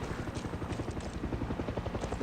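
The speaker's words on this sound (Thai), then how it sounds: "เอาเฮลิคอปเตอร์มาจากไหน" A helicopter in the video game Far Cry 6 thuds with a fast, steady rotor beat, loud and close, with a broad engine roar underneath.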